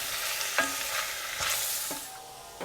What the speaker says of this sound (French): On mélange pour enrober tous les légumes.